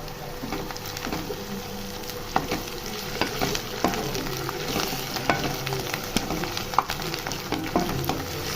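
Crushed garlic fries in a hot pan with a faint continuous sizzle, punctuated by scattered sharp pops and crackles at close range.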